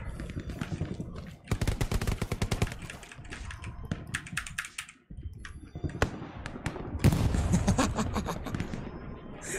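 Rapid bursts of video game gunfire and explosions, including a rocket launch and blast, crackle loudly in dense rattling volleys with short gaps, with a voice faintly mixed in.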